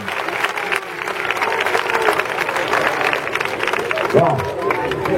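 An audience applauds at a seal show, steady clapping mixed with crowd murmur and voices, fairly loud and close, with a brief animal-like call near the end.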